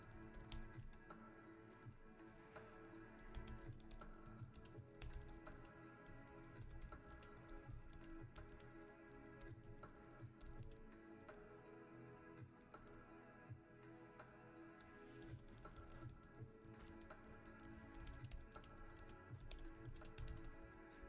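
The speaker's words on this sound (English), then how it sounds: "See, I'm just typing it," Steady, rapid typing on a computer keyboard clicks along continuously at low volume, with no talking.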